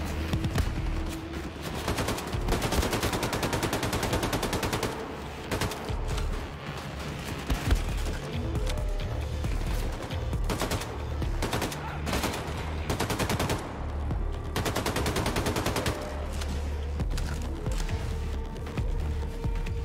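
Rapid bursts of gunfire from a gun in the Wolfenstein video game, loud and close, with automatic fire rattling in repeated volleys and brief pauses between them.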